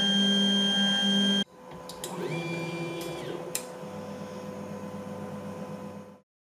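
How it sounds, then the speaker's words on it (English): An Ender 3 3D printer fitted with TMC2209 stepper drivers runs steadily: a loud, tonal motor whine gives way to a softer, smoother mechanical hum with faint rhythmic pulsing, continuous and close, with no voices. "The 2209s will also make your printer a lot quieter."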